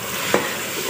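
Garlic fries in hot oil in a pan, a steady close sizzle broken by one brief clink of a stirring utensil, with no voices.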